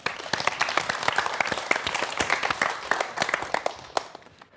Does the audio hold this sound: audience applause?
yes